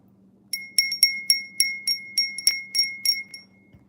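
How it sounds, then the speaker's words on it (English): A small bright bell is rung in a quick series of about eleven sharp, ringing strikes, close and clear against a faint low hum, with no talking. "If you hear me ringing that bell,"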